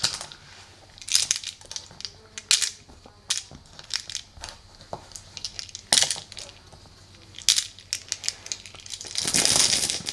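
Plastic game tokens from a board game rattle and clatter as they drop back into a bag, in several quick bursts of clicking and rustling separated by short pauses.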